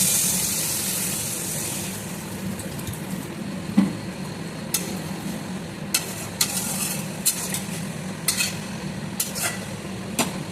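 Spicy boal fish curry sizzling hard in a pan as water goes in, then stirred with repeated sharp utensil scrapes and knocks over a steady hiss, close and without talk.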